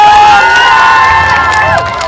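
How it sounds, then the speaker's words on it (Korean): A loud crowd at a neighborhood festival in Sintanjin cheers and shouts together at close range, voices rising in sustained whoops before easing off slightly at the end. "다시 한번 뜨거운 박수 부탁드립니다"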